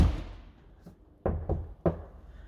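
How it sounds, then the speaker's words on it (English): A Mega Mobil Revolution 640 campervan door shutting, one dull muffled thunk followed by a couple of softer closing knocks, close by and well damped, with quiet room tone between. "if you close the door"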